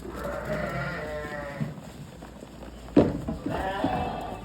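Sheep bleat close by while eating poured wheat feed, a few loud, wavering calls rising over the munching, with someone talking over them.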